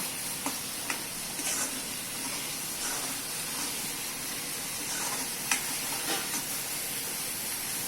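Drumstick vegetable curry fries in hot oil in a pan, a steady dense sizzle with occasional scrapes and clinks as a spoon stirs it, continuous and close with no voices.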